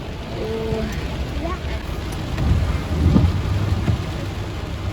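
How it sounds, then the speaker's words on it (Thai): Heavy rain from a tropical storm falls steadily outside, with low rumbles of thunder swelling midway; the wash of rain is continuous and moderately loud, with no talk over it. "แล้วก่อนข้างนอกฝนตกเยอะมากๆ"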